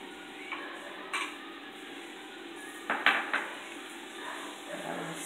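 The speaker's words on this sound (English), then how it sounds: "I'm gonna add my green peas." Green peas going into a pan of veggie chunks, heard as a few soft clinks and scrapes of a utensil against the pan with faint stirring, set against a steady low background hum.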